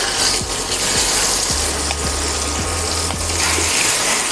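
Pork loin frying in oil in a frying pan, a steady close sizzle with a low hum and a few sharp metallic clicks spaced through it.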